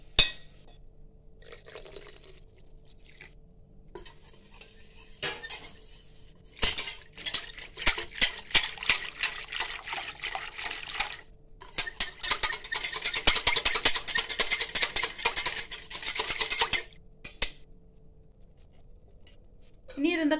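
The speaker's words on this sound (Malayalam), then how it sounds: "ഒരു അര ഗ്ലാസ് വെള്ളം വിട്ട് ബീറ്ററാലെ ബീറ്റ് പണി എടുക്കലാം" A beater whisks buttermilk with half a glass of water in a pot, making loud, rapid clattering and sloshing in long bursts separated by short pauses.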